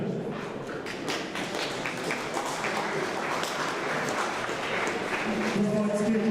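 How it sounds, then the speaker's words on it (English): An audience at a youth boxing event applauds with a dense, continuous patter of clapping that holds steady for several seconds, with faint voices mixed in. "Round of applause."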